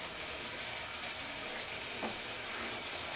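Cabbage cooking in its own released water in a pan while being stirred, a soft steady sizzle and bubbling hiss with a faint scrape from the stirring, no voices.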